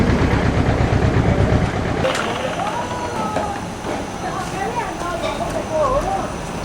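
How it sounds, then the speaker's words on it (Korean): Loud motors drone at a sugar factory in Myanmar, a dense mechanical rumble that eases after a few seconds while people talk nearby. "요란한 모터 소리가 나서 들어가 보니"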